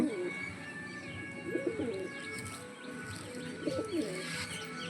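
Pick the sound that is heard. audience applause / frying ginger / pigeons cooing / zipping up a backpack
pigeons cooing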